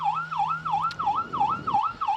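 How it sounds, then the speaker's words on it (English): Police car siren wailing in a small-town Christmas parade, a rapid rising-and-falling yelp repeating steadily, close and clear. "Police car going by with the Ryan Dykus sign on the side as well."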